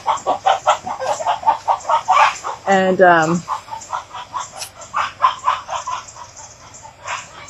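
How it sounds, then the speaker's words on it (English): A chicken gives a sharp burst of rapid clucks midway, close and loud, while a person keeps talking steadily before and after it. "oh, poor chicken."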